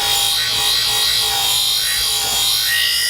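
A knife blade being stroked back and forth on an Ookami Gold convexing clamp sharpening system, giving a steady, close, continuous abrasive rubbing for a few seconds with no talking.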